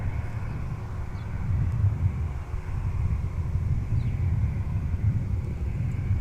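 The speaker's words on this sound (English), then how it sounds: "Northwest A320 arriving north side on 12 left" A Northwest Airbus A320 landing on runway 12 left at Minneapolis–St. Paul airport, a low distant engine rumble swelling slightly and holding steady, with some wind noise and no voices.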